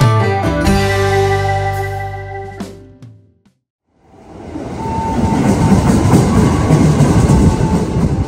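A KRL commuter train pulls into the platform at Kebayoran Lama station, its loud rumble and rolling wheel noise building steadily after a tonal passage fades to near silence.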